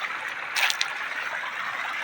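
A river flows in a steady broadband wash of rushing water, close and continuous, with a brief brighter splash near the middle and no talking.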